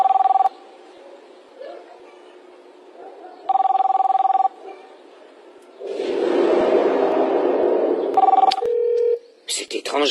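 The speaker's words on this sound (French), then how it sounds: "C'est étrange, Rosa ne répond pas au téléphone." A telephone rings unanswered in repeated bursts with gaps between them, loud and close, broken by a stretch of louder background noise and a few short beeps near the end.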